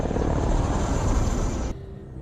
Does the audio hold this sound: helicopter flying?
yes